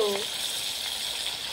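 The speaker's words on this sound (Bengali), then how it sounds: "এখন আমি সর্ষের তেলে কিন্তু চিকেনগুলো ভেজে ভেজে তুলে নিচ্ছি" Chicken pieces fry in mustard oil in an iron wok over a wood fire, giving a steady, close sizzle that runs through the whole short moment.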